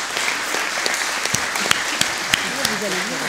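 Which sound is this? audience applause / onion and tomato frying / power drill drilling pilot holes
audience applause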